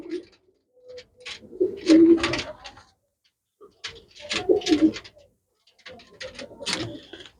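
Pigeons coo in three repeated phrases, soft throaty calls with brief quiet gaps between, close by.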